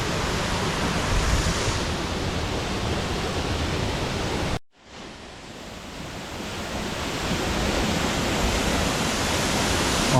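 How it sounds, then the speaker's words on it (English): Steady, dense roar of Alder Creek Falls in Yosemite, a waterfall over 100 feet at lower flow, fills the whole clip, broadband and continuous, with a brief cut in the middle before the rushing resumes. "just a really, really beautiful waterfall here, even with lower water flow"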